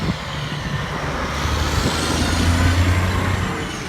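A semi truck passing on a flooded street during a state-of-emergency flood, a heavy low engine rumble with water hiss swelling as it draws near and easing away over four seconds.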